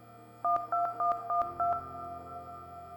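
Keypad tones of a cell phone call in a video game: five crisp dual-tone beeps tapped in quick succession, followed by a faint lingering hum, close and clean with no voices.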